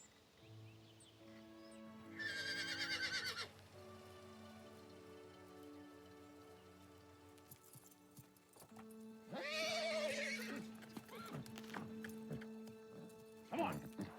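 A horse snorts and whinnies twice, with hooves clopping between the calls, over a faint patter of rain; someone speaks near the end.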